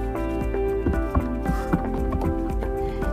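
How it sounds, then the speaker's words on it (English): Goats approach across ground outdoors, their hooves making a steady clip-clop patter of footsteps, close and fairly loud, with repeated light knocks over a continuous background hum. "My goats are coming over."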